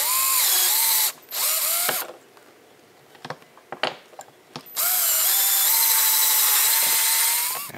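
A power drill boring a hole in Delrin whines in two long bursts, speeding up and holding steady, with clicks and handling noises in the quieter gap between.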